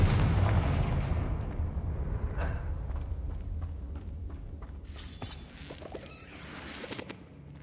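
Confringo explosion spell in the video game Hogwarts Legacy: a loud booming blast at the start that rumbles and decays, followed by scattered crackles and smaller pops.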